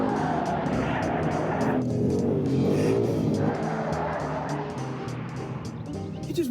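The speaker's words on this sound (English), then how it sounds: "You just whipped the shit out of this car." A Ford Mustang driven hard by a professional stunt driver, engine roaring and tires squealing through sustained skids, loud and close, with rattling and a brief shift in tone midway.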